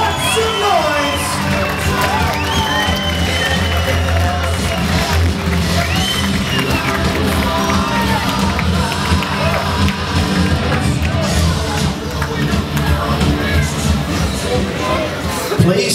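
A large crowd cheers and roars continuously at a raw powerlifting squat attempt of 430 kilos, loud and close with shouts and babble throughout.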